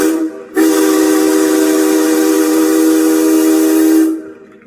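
Steam locomotive C11 292 sounds its whistle: a single loud, sustained tonal blast lasting about three and a half seconds, starting abruptly and fading out, with little else around it.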